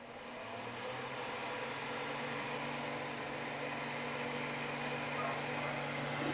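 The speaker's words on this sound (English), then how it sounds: "Turn on this fan before it gets stinking" A kitchen exhaust fan above a stove drones steadily while soap cooks, a constant broadband whoosh with a low hum that stays even and fairly loud throughout, with no talk over it.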